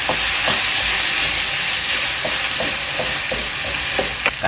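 Chili, lemongrass and tomato stir-fried in a pan give a steady, close sizzle with a constant steamy hiss, broken by scattered clicks and scrapes of a spatula on the pan, with no one talking.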